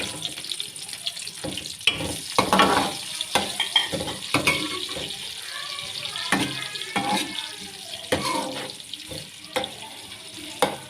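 Onions fry in oil left over in the pan while cooking chong aloo, with bursts of sputtering and crackling and some stirring clatter, close and fairly loud.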